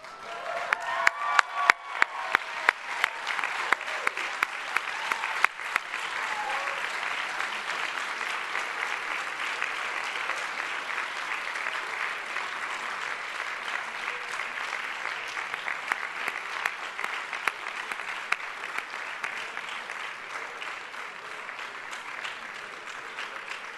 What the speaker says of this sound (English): I would ask all MA candidates to rise and applaud those family members and friends who have helped them